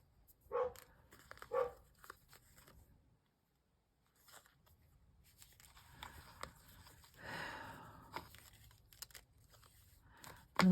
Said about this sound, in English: there's the dog wanting to come back in